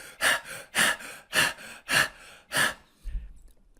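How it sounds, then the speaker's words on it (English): Five loud, evenly spaced forceful breaths, a rhythmic huffing exhalation roughly every half second during a pumping body exercise, close up and alone, ending with a low thud. "you can add some very audible breathing like this"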